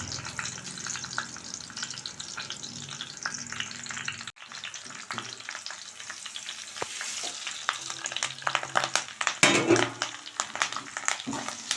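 Tempering spices for tomato dal fry in hot oil with a loud, steady sizzle and crackle, stirred now and then, with a brief break before the frying resumes more sharply.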